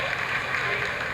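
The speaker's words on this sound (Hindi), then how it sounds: "Lot of applause indicates that till now the performance has been nominal." Applause in a crowded mission control room during the Chandrayaan-3 lunar landing's vertical descent phase, a steady, dense wash of clapping with a murmur of voices under it.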